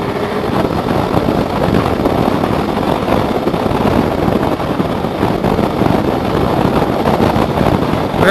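A motorcycle, a BMW G310GS or Benelli 600i, is ridden on the road with a steady engine drone mixed into loud, constant wind buffeting the microphone, with no break for the whole stretch.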